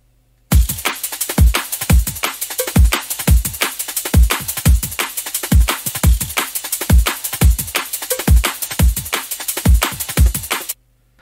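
Electronic drum pattern with a punchy expanded kick and crisp tops, steady repeating beats hitting hard and close for about ten seconds, no voices.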